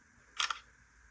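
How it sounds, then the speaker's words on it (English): Shutter sound from a Samsung mobile phone camera: a short, crisp double click, close and fairly loud, standing alone against a faint background hiss. "We can use second shutter button to take picture on your Samsung mobile phone"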